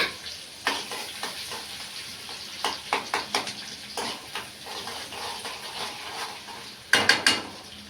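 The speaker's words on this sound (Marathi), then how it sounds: "त्याच्यानंतर हे कापलेला कांदा आणि याला छान मिक्स करायचं." Chopped onion stirred in a hot pan while cooking misal pav, a steady sizzle of frying broken by irregular scraping and clinking strokes of a spoon against the pan.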